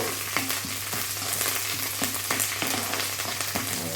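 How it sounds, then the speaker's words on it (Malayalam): Mustard seeds spluttering in hot oil while pickle is being prepared, a continuous loud sizzle broken by frequent sharp pops and crackles close by. "കടുക് പൊട്ടിത്തെറിക്കുമ്പോഴേക്കും ഈ എണ്ണ മുഖത്തിൻ്റെയൊക്കെ ഷേപ്പ് മാറും"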